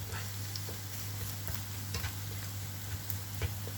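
Fried rice with egg being stirred in a pan, a soft continuous sizzle with scattered light ticks and scrapes of the spatula, fairly quiet and close, under a low steady hum.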